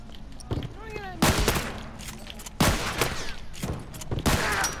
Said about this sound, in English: Why am I getting shot by two people, honestly?